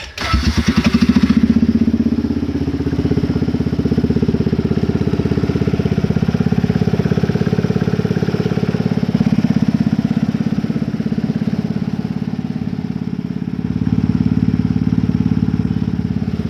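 A carbureted 4x4 ATV engine cranks briefly and catches, then settles into a loud, steady, close idle that runs to the end with a slight rise in tone near the finish.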